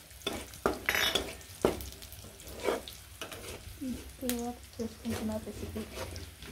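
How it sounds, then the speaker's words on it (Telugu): Cumin and mustard seeds fry with curry leaves and chilies in a pan for tomato chutney, sizzling under repeated scraping stirs, while a voice talks over the cooking in the latter half. "ఇదిగోండి ఇలా అయితే బాగా వేయించుకోవాలి."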